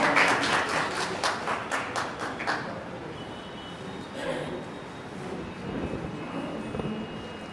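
An audience claps loudly to welcome a guest speaker at an award gathering. The dense applause lasts about two and a half seconds, then quickly thins to quiet room murmur.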